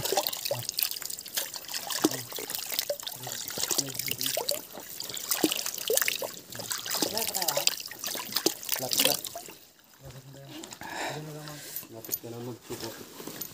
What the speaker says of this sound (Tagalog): Flowing yan. Umaagos yan.